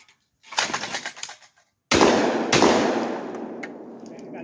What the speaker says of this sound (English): I got 2 shots on that.